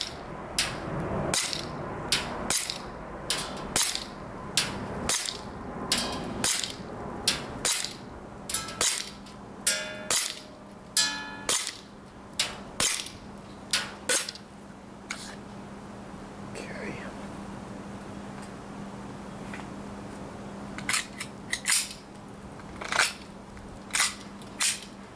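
Repeated sharp shots from a GHK Glock 17 Gen 3 airsoft pistol at an outdoor range, fired in quick irregular bursts with short pauses, close and loud, with a faint steady hum beneath.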